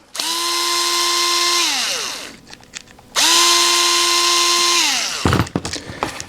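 A power screwdriver unscrews the screws on a molded electrical plug that has lost its ground prong, two loud steady whirring bursts of nearly two seconds each, each winding down, with clicks and handling noise between and after.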